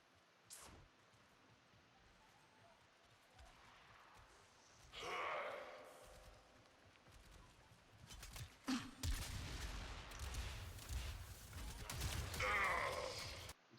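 Gunfire from a weapon in the video game Warframe, a few scattered shots and bursts of varying loudness over a quiet game background, with a louder stretch of firing toward the end.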